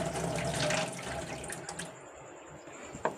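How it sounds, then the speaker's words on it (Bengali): Water pours off a cooking pot into a kitchen sink, a steady splashing stream that tapers away into faint trickles and a small clink near the end. "জলটা ফেলে দেবো।"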